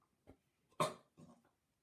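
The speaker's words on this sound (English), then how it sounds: "My dog is barking because he thinks Mum's home" A pet dog barks indoors at home, three short barks with the middle one loudest, fairly close and with no talk over them.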